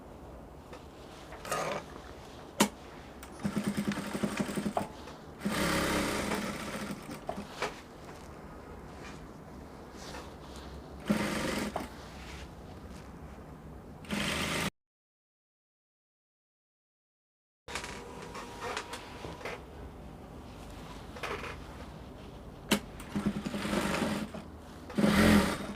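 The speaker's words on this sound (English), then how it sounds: "Then I'll take to the sewing machine." A sewing machine stitches a dress seam on a bustier dress with raglan-style yokes, running in short, irregular bursts of rapid mechanical whirring, then falling silent for a few seconds before starting again.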